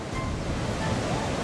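Ocean surf washing against a rocky volcanic coastline in Hawaii, a steady, loud broadband roar with no breaks and some wind noise mixed in.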